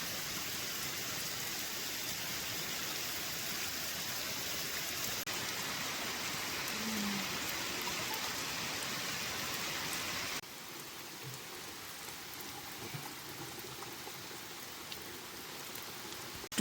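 Rain falls steadily in a Nepali mountain village, a dense, even hiss of drops that drops to a softer patter partway through, with no voices.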